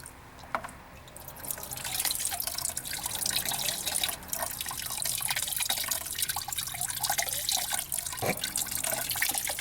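Contaminated fuel is pumped out of a Mazda fuel tank, a steady close splashing, dripping liquid flow with an unsteady, sputtering texture.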